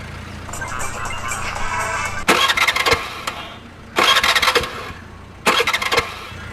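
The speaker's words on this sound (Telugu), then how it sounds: "స్టార్ట్ చేయడానికి ట్రై చేస్తుందన్న." A motorbike engine is started with three separate bursts, each cranking and catching for about a second over a steady low engine drone, fairly loud and close with no talk.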